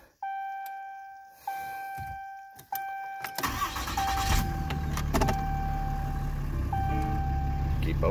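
A truck engine cranks and catches after a few quiet seconds with faint tones, then settles into a steady low rumbling idle, heard close from inside the cab.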